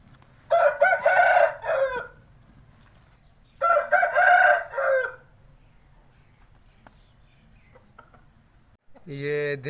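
Two bursts of loud hen clucking and squawking up close, separated by quiet gaps, with a final short squawk at the end.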